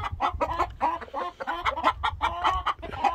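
Several backyard chickens cluck and chatter continuously near the microphone, a busy overlapping run of short calls with no human voice.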